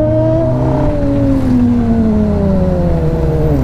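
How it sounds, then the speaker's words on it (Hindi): A loud inline-four 250cc motorcycle engine revs with a high, wailing tone that climbs and then slowly falls, close and sustained without pause. "सो इनलाइन 4 सिलेंडर बाइक है ये"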